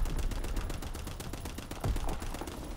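Rapid automatic gunfire from the Automaton, a strong automatic weapon in a first-person shooter video game, rattling off in dense, continuous bursts at close range with a brief heavier thump near the end.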